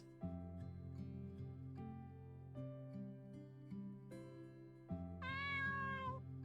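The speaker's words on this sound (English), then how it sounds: "Cat." A cat meows in a self-made video game, a short rising mew near the end over steady background game music.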